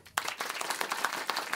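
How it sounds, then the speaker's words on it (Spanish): A stand-up comedy crowd breaks into loud, sustained applause for the student who skipped breakfast, starting abruptly after a brief quiet moment and continuing as a dense wash of clapping. "Un aplauso para el alumno sin desayunar"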